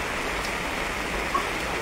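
Rain falls steadily as a dense, even hiss of drops with no pauses or changes in level, fairly loud, and no voices over it.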